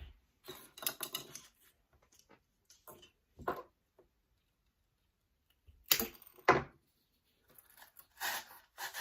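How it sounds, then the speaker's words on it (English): Scissors snip through plastic Easter eggs for a Dollar Tree bunny decoration, heard as short close bursts of cutting and crinkling plastic separated by quiet pauses. "I am going to cut down some of these eggs and stick those in there."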